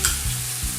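Minced garlic stirred through browned minced beef and onion in a hot pan, a quick burst of close sizzling with a couple of spatula scrapes.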